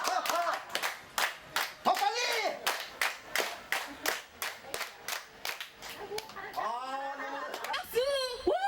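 Steady rhythmic hand clapping, close and fairly loud, at an open-air foot bath, running under lively talk and cheering voices that speed up toward the end.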